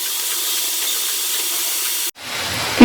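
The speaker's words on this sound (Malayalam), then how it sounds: "എണ്ണ ഒരു മീഡിയം ചൂടായിട്ടുണ്ട്. ഇനി നമുക്ക് ഇതിലേക്ക് മാവൊന്ന് പിഴിഞ്ഞൊഴിക്കാം." Butter murukku dough pressed into medium-hot oil, a loud steady hiss of sizzling frying that cuts off briefly, then resumes more quietly.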